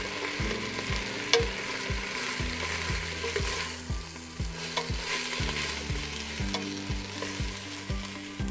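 Lentil soup ingredients sizzle steadily in a pot while being tossed and stirred, with a rhythmic series of spoon scrapes and clinks over a constant frying hiss.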